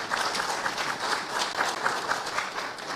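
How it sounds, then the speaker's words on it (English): An audience claps at a mausoleum handover ceremony in Bondo, Siaya County, Kenya, producing a full, continuous round of applause with rhythmic swells. "May we accord the CSs a hearty round of applause."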